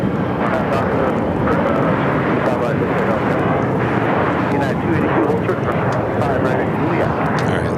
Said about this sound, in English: The China Airlines A350 will head into the south side.